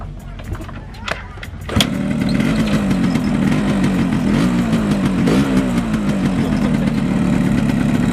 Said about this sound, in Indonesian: Lanjut kita untuk menyalakan suara mesinnya seperti apa